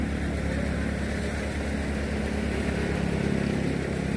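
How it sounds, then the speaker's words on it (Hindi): A New Holland 3630 50 HP tractor engine drives a cutter, giving a steady, loud, low mechanical drone that holds unbroken throughout with no voices. "लेकिन यह 50 हॉर्स पावर का ट्रैक्टर ही अच्छा काम कर रहा है"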